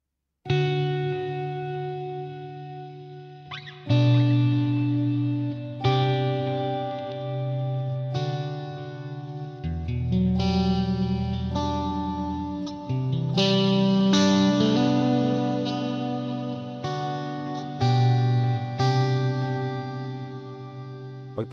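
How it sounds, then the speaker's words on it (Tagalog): A Headrush MX5 guitar effects unit set to an extra long reverb, sustained electric guitar chords ringing out in a slow sequence, each one swelling into a wide, washing tail that blends into the next, loud and clean with no talk. "May papaninig ako sa inyong reverb, yung 11 reverb."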